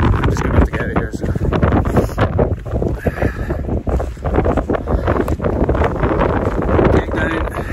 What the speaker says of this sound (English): The wind's really picked up down here